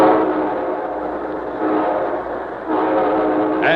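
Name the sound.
train sound effect with train horn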